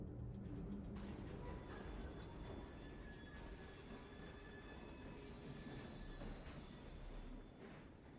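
A train rolling along in the video game Assassin's Creed Syndicate, a steady low rumble of wheels and carriages with faint metallic squeals, continuous and fairly distant throughout.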